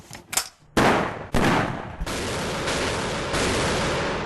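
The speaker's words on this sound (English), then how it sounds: "This is a single shot 37mm grenade launcher." A single-shot 37mm grenade launcher firing, heard as sharp close blasts followed by a sustained loud roaring rush that carries through to the end, with no voices.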